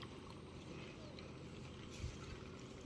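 A boat passing on a river during stormy weather, heard as a steady low engine drone with wind and water noise throughout, fairly close and continuous, with no speech over it.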